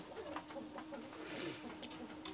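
Domestic pigeons, including a young pair of Oman pigeons, cooing softly and faintly in short repeated calls against a quiet background, with a small sharp click near the end.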